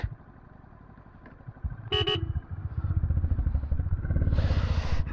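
A Honda Highness motorcycle pulls away at the start of a ride on a rough road, engine thrumming and building, with a short horn toot midway and a gusty rush near the end.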